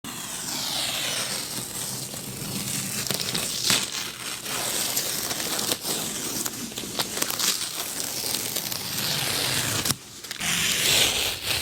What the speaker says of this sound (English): I have some nice satisfying tape peeling ASMR for you.